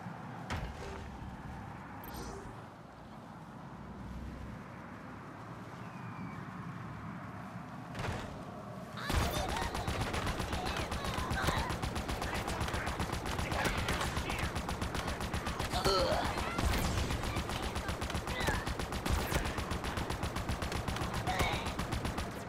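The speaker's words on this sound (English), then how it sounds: "What's that sound? Oh, they're closing the gate." A gate closing in Halo Infinite, a sustained loud mechanical grinding and rumble that starts abruptly partway through and continues, layered with distant gunfire and faint talk.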